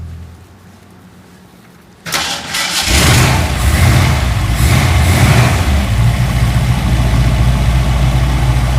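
A junkyard Ford Mustang Mach 1 engine cranks and catches after two seconds of near-quiet, then settles into a loud, steady rumbling idle that holds to the end.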